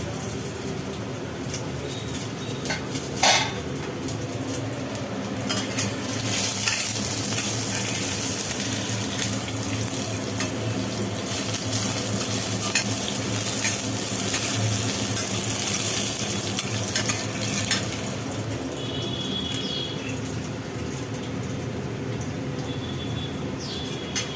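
Chopped ginger and four or five pieces of garlic frying in hot oil, giving a continuous, even, hissing sizzle that holds steady throughout, with a few faint clinks.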